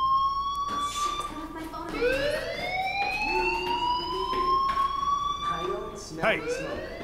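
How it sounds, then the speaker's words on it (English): A fire alarm rings in the video game Life is Strange: a steady electronic wail of rising, siren-like sweeping tones that runs the whole time, with voices and game sounds faintly underneath. "do you hear that fire alarm? That means you should be outside."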